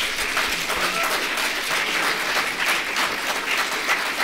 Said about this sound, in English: how about a round of applause for all these candidates?